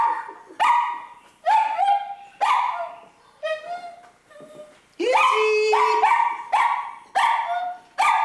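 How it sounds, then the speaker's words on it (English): A pet dog named Izzy barks and yips repeatedly, loud and close, some calls drawn out almost like singing, with short gaps between bursts. "He'll bark at anything now."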